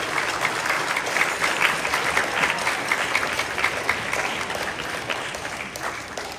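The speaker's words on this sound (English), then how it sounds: "do the cool foot applause thing that we did earlier" Middle school band students at a county concert stomp their feet and applaud for their parents, a dense, steady crowd noise with scattered sharp thumps that holds at an even level throughout.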